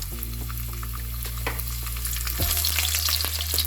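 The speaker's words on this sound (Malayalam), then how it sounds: "കുറച്ച് കിസ്മിസ് എടുത്തിട്ടുണ്ട് ഞാൻ അത് നമുക്കൊന്ന് എണ്ണയിലോട്ട് ഇട്ടിട്ട് വറുത്തെടുക്കാം" Steady sizzling of raisins frying in hot oil, a continuous crackling hiss with a faint low hum beneath it.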